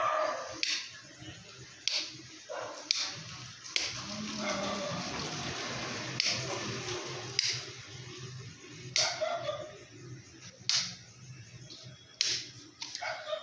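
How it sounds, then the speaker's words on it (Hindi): Dogs barking at night outdoors, several sharp yelps scattered irregularly across the stretch over a steady low hum of background noise, moderately distant. "कुत्ते वुत्ते जो भौंकते रहते हैं ना रात भर।"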